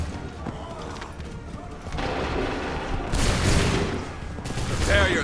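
Musket volleys crack and boom in Assassin's Creed 3, a loud burst of gunfire building into rolling, overlapping blasts, with a second heavy volley near the end over a battlefield din.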